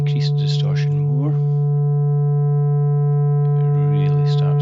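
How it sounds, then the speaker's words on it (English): A steady sine tone driven into rising harmonic distortion hums with a stack of overtones, heard continuously with someone talking over it at the start and end. "If I increase the distortion more,"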